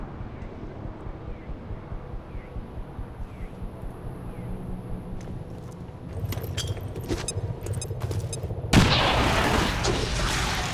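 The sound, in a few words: incendiary grenade exploding in XCOM 2 video game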